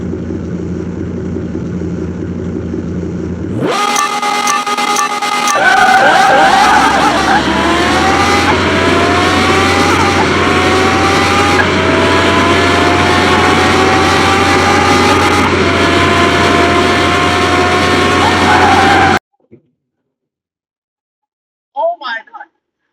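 Drag-built Lamborghini Huracan and Gallardo race in Car Mechanic Simulator 2021, engines roaring loud and sustained as they launch and climb through gears, then cutting abruptly to silence, with a voice talking over the game.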